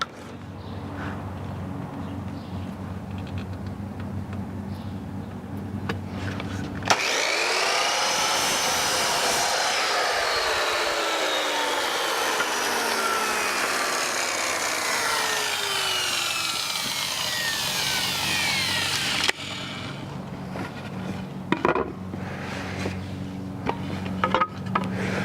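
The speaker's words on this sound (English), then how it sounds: "I'm going to cut this right on the line and see how it comes out." A power saw cuts through a wooden board for a Christmas train layout, a loud, rising whine and rasp lasting about twelve seconds that stands out sharply from a quieter hum before and after, with no talking.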